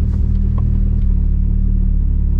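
Tuned Volkswagen Saveiro turbo pickup on a 400 m rolling-start run, its engine a loud, steady close-up roar with a deep drone that holds evenly throughout, no voices.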